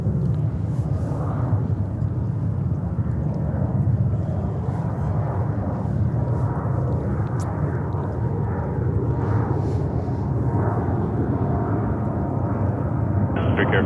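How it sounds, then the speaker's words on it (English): An Atlas Air Boeing 747 arriving from Anchorage comes in to land at JFK airport, a steady, heavy broadband roar that holds loud and unbroken throughout. "Let's go over to the Atlas Queen. There we go. 747 coming in from Anchorage in Alaska."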